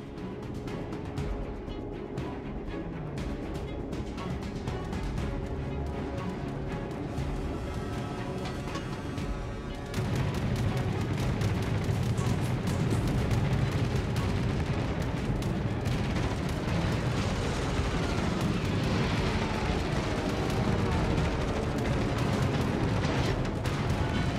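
Battleship main guns boom during a World of Warships match aboard the North Carolina, a tier 8 US battleship, dense heavy rumbling firing that swells louder halfway through and continues steadily without pause.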